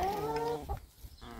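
Chickens clucking and cackling close by at feeding time, a run of tonal calls early on, then softer scattered clucks and rustling after a short lull.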